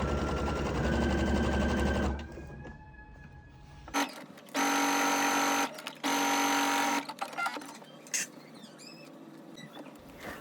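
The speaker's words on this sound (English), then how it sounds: "Then I'm going to pin and stitch those pieces together." A sewing machine stitches tennis bag pieces together in two short loud runs of a second or so each, preceded by a lower motor drone and surrounded by light handling clicks.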